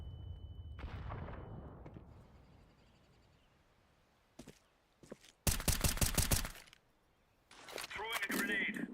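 Gunfire and grenade blasts in a Counter-Strike FACEIT match: a few sharp isolated shots, then a dense loud burst of rapid fire, followed by a rumbling blast with rattling debris; a voice talks briefly at the start.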